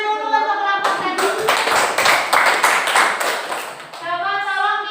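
A classroom group of students claps together for another group, a dense burst of hand claps lasting about three seconds, with spoken voices just before and after.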